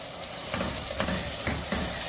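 Tomato paste and ground green chili fry and get stirred in a pan for channa masala, a steady sizzle broken by rhythmic scraping strokes about every half second, close and without talk.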